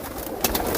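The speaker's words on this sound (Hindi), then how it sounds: "ये आप सारे देख रहे हैं नर कबूतर" Male and female high flyer pigeons coo inside a crowded loft, a soft low burbling that rises into a few slightly louder coos near the end.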